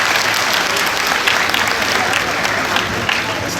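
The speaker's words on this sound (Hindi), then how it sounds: "एक बार जोरदार तालियों से उनका स्वागत करें।" Loud, dense applause from a large audience at an Earth Day 2017 government function in Bihar, a steady roar of clapping filling the whole moment without pause.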